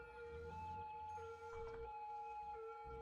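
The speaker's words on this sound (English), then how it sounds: "Yes, I know there's a siren." A wailing siren from the city-building game Cities: Skylines, steady and fairly loud, with sustained tonal lines held across the whole stretch over a low background rumble.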